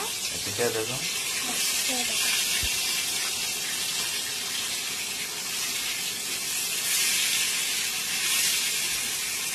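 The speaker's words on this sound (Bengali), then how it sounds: "দেখেন মাছ ফ্রাই করছে।" Fish frying in a pan in a home kitchen, a steady bright hiss and sizzle heard close by, with a person talking briefly at the start.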